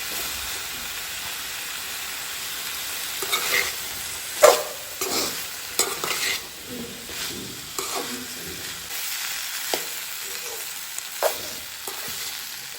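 Boiled potatoes and cauliflower stirred and fried in a pan, a soft continuous sizzle broken by repeated scraping stirs of a spatula, close and moderately loud with no talking.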